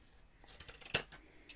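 Scissors snip small paper tabs for a tall milk-carton style paper gift bag; one crisp, close cut stands out over faint paper rustling and handling.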